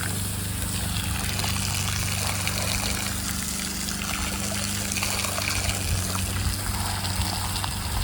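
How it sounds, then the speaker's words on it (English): Steady watery spray and trickle from a sprinkler showering pigs, continuous and fairly even, with a low background hum underneath. "See the little sprinkler."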